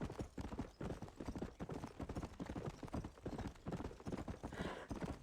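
Horse hooves clip-clop in a steady trotting rhythm in the Red Dead Redemption video game on Nintendo Switch, an even run of clear hoofbeats throughout.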